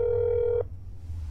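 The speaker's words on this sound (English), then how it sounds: "I'm gonna call the phone number because I gotta be extra careful" A single steady electronic phone tone in the video game That's Not My Neighbor holds for about half a second, then cuts off abruptly, leaving a low background hum.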